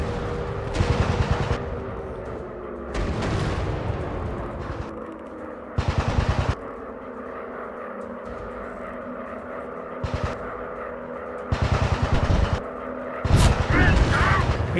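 Enemy WW1 fighter plane machine-gun fire in a VR flight game comes in repeated short rattling bursts over a constant droning aircraft engine, loud and close.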